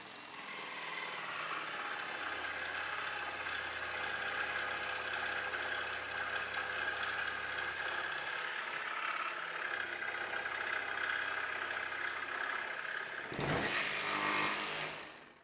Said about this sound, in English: See if we can't hear it speed up to adjust for the material.